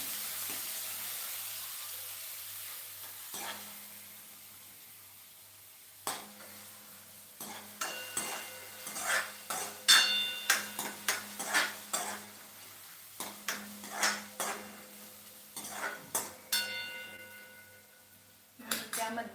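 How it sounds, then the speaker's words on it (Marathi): Chopped onion for a Punjabi-style dal tadka sizzles in a pan as a spoon stirs and scrapes it, giving bursts of clinks and frying noise after a quiet start. "चॉप केलेला कांदा थोडासा परतून घ्यायचा सुरुवातीला"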